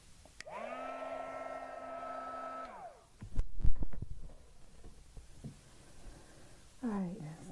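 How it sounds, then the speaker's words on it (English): A heat gun blowing steady hot air to dry paint on a celestial sphere artwork, a loud whirring hum for a few seconds that winds down, followed by clattering handling noises and a brief voice. "I'm going to get out my heat gun and dry it a little bit."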